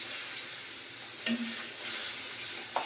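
Mustard paste ground with green chilli goes into a pan of hot spiced masala for an egg mustard curry, giving a steady close sizzle with a brief wet plop and light stirring scrapes, no talking.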